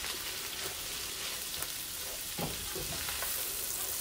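Collard greens fry in a pan with a little baking soda, giving a continuous hissing sizzle like light rain while a spoon stirs them in occasional soft scrapes, close by and without speech.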